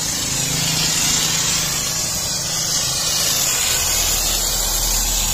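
Shampoo is sprayed onto the engine of an Isuzu Crosswind during detailing, a loud, continuous hiss with a steady low hum, close up and without a break.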